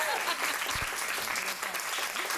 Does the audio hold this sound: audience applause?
yes